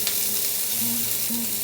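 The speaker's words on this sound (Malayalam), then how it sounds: "ആ ഓയിലിലേക്ക് ഞാൻ ആദ്യം ഇടുന്നത് ഒരു 3/4 കപ്പ് ഓണിയൻ അരിഞ്ഞു" Chopped onion, about three-quarters of a cup, hits hot oil in a pan for a breakfast sandwich, giving a steady, close, dense sizzle with soft stirring and no voices.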